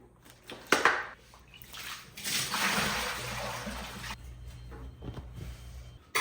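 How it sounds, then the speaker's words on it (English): Water splashes and pours into a 3D-printed container in a burst lasting about two seconds, with a sharp knock just before and faint handling clatter afterward. "I'm gonna fill this up with water and see how much it holds."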